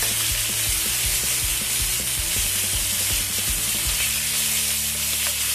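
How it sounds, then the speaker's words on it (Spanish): Beef sizzling hard as it fries in a hot pan for Peruvian lomo saltado, a steady crackling hiss with occasional stirring scrapes and knocks, close and continuous, with no voices. "Miren cómo dora la carne, miren qué color más lindo que agarra."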